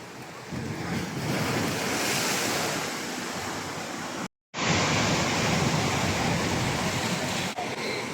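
Storm waves surging and crashing on the coast at a fishing village, a continuous loud roar of surf with heavy wind buffeting the microphone, broken by one brief dropout midway, no voices.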